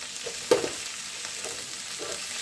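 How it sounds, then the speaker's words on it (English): Vegetables, including courgette and jalapeño, sautéing in a pan, a quiet, steady sizzle with one sharp spatula knock near the start and a few softer stirring scrapes. "I am sauteing the vegetables."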